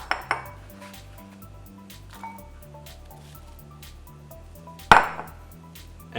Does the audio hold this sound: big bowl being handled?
yes